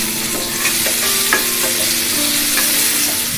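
Carrots and pre-boiled potatoes fry in a pan with a constant loud sizzle and occasional clinks and scrapes of stirring, close up and without speech.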